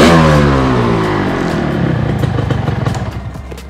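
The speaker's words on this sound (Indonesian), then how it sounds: "Motor ini sudah saya test drive." A Yamaha RX King motorcycle engine, newly built in 2023, revs loudly close by, the pitch sweeping down from a high rev and settling into a rapid, rattling two-stroke idle.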